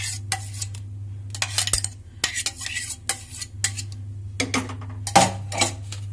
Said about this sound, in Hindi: ये देखिए अब इसमें मैं डालूंगी आम का पल्प जो हमने ग्राइंड किया था।